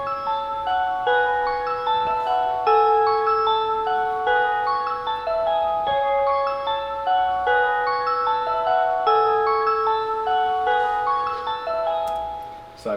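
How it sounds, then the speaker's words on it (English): A synth melody for a beat being produced plays alone, with clean, bright notes stepping through a repeating, looping phrase over a soft, low background. "Alright, so I just started out with this melody here."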